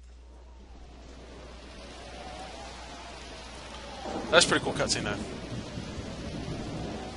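Steady rain hisses through a thunderstorm in the Pokemon Mystery Dungeon Explorers of Darkness game, broken by a sharp crackling lightning strike and rumble partway through, while a person talks over it.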